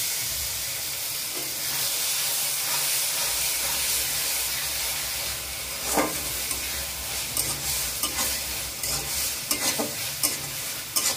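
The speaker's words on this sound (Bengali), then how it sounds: "পেঁয়াজটাকে ব্রাউন কালার করে ভেজে নিয়ে এখন দিয়ে দিচ্ছি আদা পেঁয়াজ রসুন পেস্ট" Onion with ginger-garlic paste frying in a pan for aloo dum, a steady close sizzle and hiss with stirring scrapes growing more frequent toward the end, no voices.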